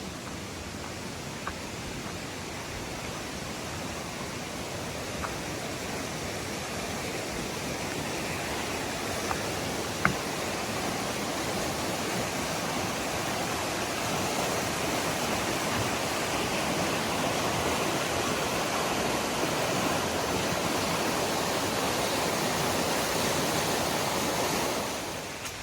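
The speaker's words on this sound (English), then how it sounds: "this water's moving pretty quick" Fast-flowing creek water on the Appalachian Trail rushes in a steady, loud, broadband roar for the whole stretch, with no voices over it and a slight fade at the very end.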